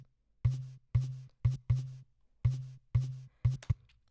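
Kick drum sample built from a water bottle opening sound, heard as a steady series of punchy low thumps with a short click on top, evenly spaced with a few quick doubles, close and dry with no voice.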